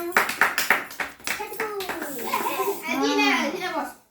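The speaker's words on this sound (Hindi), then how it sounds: "छोटू रे लाई ताली मारो" Young children in a classroom activity give a few quick, sharp hand claps at the start, followed by children's voices chattering and a drawn-out sung or chanted vocal.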